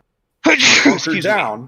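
A single loud, close sneeze during a podcast conversation, quickly followed by someone speaking.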